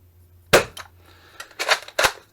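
A Nerf Retaliator blaster, upgraded with a worker modding kit, fires Elite and Busby foam darts: a sharp close snap, then a couple of quieter clicks and two more sharp shots with priming clatter between them.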